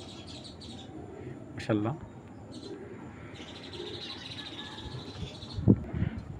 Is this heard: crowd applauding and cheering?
no